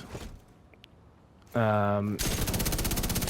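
A light machine gun fires a sustained rapid burst in the shooter game The Division 2, loud and continuous after a short tonal game sound, with a voice speaking faintly before it.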